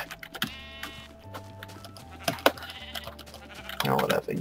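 Sheep bleat in the Minecraft video game, short wavering bleats standing out among clicks, hums and other game sounds, with a burst of noisy rustle near the end.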